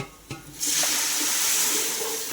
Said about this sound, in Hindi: पायों का पानी जो बच्चे पीने के बाद बचा था ना, तो पूरा पानी डाल दी और पाए भी डाल दी